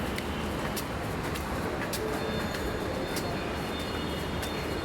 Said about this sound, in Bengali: মেট্রো রেলে উঠবে